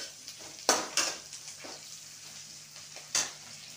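Onions frying in a pan with fresh curry leaves and green chillies, a steady soft sizzle broken by a few sharp clatters of stirring, close and with no talk.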